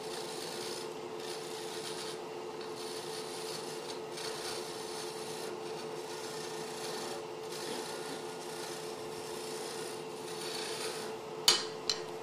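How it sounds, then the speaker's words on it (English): A turning tool takes light peeling cuts on wood spinning on a lathe, giving a steady raspy scraping hiss with slight rhythmic pulses and a couple of sharp clicks near the end. "I'll just lightly take cuts on these peeling cuts here."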